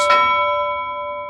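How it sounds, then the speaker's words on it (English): A single bright bell strike rings out with a clear metallic ding and a long, slowly fading sustained tone, heard alone. "bell ring, ding ding"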